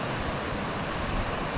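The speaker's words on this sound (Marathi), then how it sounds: "अरे ना या लाटा बघा कसले येतात" Sea waves at Ganpatipule beach roll in as a broad, constant wash of surf, loud and close, with no pauses over the short stretch.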